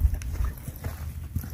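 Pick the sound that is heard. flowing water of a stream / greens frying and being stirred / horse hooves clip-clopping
horse hooves clip-clopping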